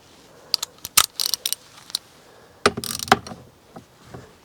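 Ratcheting clicks from a hand torque wrench tightening lug nuts set to 33 foot-pounds on a 2019+ RAM pickup with carbon fiber wheels, in two bursts of quick clicks separated by a pause.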